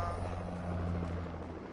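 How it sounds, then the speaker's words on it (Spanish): A helicopter in a video game drones with a steady low rotor hum, fairly faint and continuous, with no voices over it. "¿Viene un helicóptero?"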